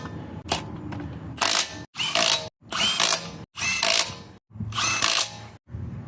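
A power ratchet spins lug nuts while fitting a wheel back onto a 1998 Toyota Prado, six loud close bursts of whirring rattle separated by brief pauses.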